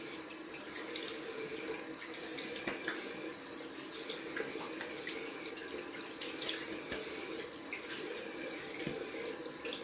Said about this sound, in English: rinse some cold water